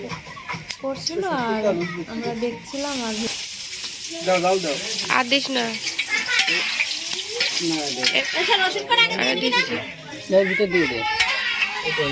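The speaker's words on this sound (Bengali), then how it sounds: "এখানে মাটির চুলাই রান্না করা হচ্ছে তো চুলার আঁচটা মিডিয়াম রেখেই সম্পূর্ণ রান্নাটা আমরা" Mutton curry stirred and sizzling in a pot over a clay stove at a family picnic, continuous frying hiss with scraping stirs, under someone talking and children playing nearby.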